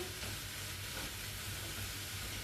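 Cashews toss in a frying pan with minimal oil, giving a soft, continuous sizzling hiss with a low rumble underneath, fairly quiet and unbroken, with no voices.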